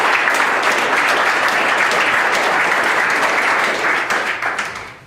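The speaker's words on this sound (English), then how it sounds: "Give them a round of applause for that." Loud burst of applause at a town board meeting, many hands clapping in a dense, steady wash that fades out over the final second.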